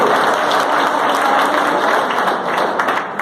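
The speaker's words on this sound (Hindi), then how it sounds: "अब इनके लिए तो जोरदार वाली तालियां मिल चाहिए।" An audience at a business meeting in Dausa claps loudly and continuously, a dense, close burst of applause filling the room before tapering slightly at the end.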